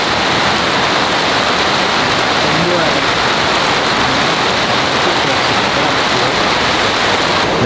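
Heavy rain pours in a loud, dense, unbroken roar on a mountain road to a remote village, with no other sounds standing out.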